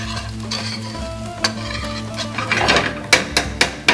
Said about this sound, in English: Then we'll stir through some rinsed pearl barley.